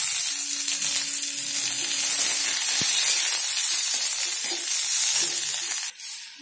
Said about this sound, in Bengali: দেখতে পাচ্ছেন আমাদের টমেটোটি ভাজা হয়ে গেছে।